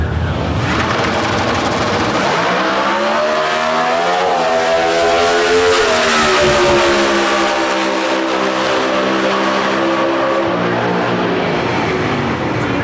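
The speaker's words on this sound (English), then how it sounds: "Side by side at the finish line. What a great drag race there." NHRA Factory Stock drag racing cars at the Summit Nationals in Norwalk, Ohio accelerate side by side, a loud roaring pair of engines whose pitch climbs through gear changes, steady and powerful throughout.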